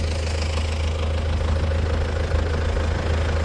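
Diesel engine of an MTZ 80 tractor running steadily during corn sowing, a loud, continuous low rumble with constant knocking, close and uninterrupted with no talking.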